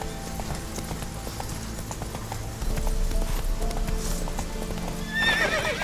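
Roach, a horse in the video game The Witcher 3, gallops with steady, close hoofbeats over a continuous background, which grow louder midway before a whinny near the end.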